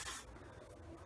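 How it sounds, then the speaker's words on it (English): Body spray from an aerosol can hissing out in one strong burst at the start, then trailing off into quieter residual hiss, up close. "And that's just body spray"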